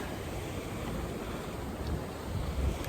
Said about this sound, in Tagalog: Nahanap ka na ng mga alon.